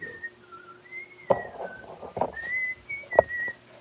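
Someone whistles a slow, wavering melody up close, with a few soft knocks and clatters in between.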